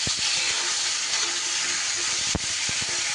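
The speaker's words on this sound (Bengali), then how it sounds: "এইবার আমি এই তেলেই দিয়ে দিচ্ছি কেটে রাখা ঢ্যাঁড়স" Sliced okra dropped into hot oil left from frying potatoes, giving a loud, steady hiss and sizzle with a few sharp clicks and one louder clack near the end, with no talk.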